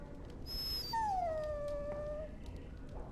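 A dog in the game Dragon Age: Origins lets out a single drawn-out, falling whimpering whine, close and clear over a low background murmur, with no voices.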